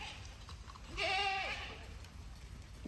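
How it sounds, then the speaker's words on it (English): A single wavering bleat rises out of steady background noise, coming from a herd of goats grazing the forest undergrowth in a park in Norway; it sounds moderately close but not loud. "What we didn't expect is the herd of goats that manage the undergrowth here."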